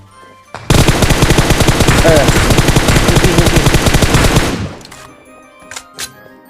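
Sustained automatic rifle fire from the PUBG video game hammers out in a loud, rapid burst lasting about four seconds, then cuts off, followed by a couple of faint later sounds.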